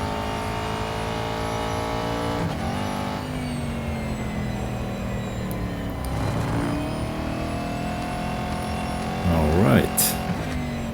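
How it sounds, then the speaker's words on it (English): A GT4 race car engine in Real Racing 3 at Brands Hatch, heard from the cockpit, drones steadily at high revs, dropping in pitch at several gear shifts over roughly eleven seconds. "to really hear that engine purr"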